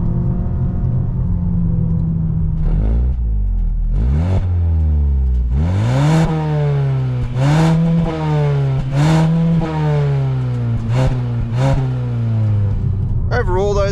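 2024 Mazda3 engine droning from inside the cabin, revving up repeatedly as it climbs through several gear changes, steady and fairly loud.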